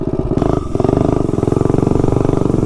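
A Tillotson 212 small engine with a big-valve head on a top speed run: a loud, close, rapidly pulsing engine roar that climbs in pitch and holds steady at high revs.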